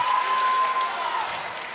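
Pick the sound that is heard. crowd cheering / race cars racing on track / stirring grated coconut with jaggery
crowd cheering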